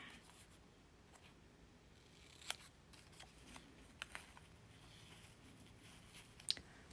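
Scissors snipping through fabric pieces for a cardinal bird craft, with a few sharp, quiet cuts spaced over several seconds against a soft room background.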